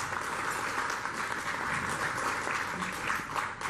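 Audience at a lecture on graphite and graphene gives a round of applause for a geologist, a steady, fairly close wash of clapping that holds evenly before easing slightly at the end.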